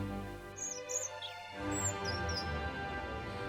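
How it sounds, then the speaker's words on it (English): A bird singing at a window in a fairy tale, with several thin high chirps and tweets over a soft musical background. "one day he heard the singing of a bird on the window."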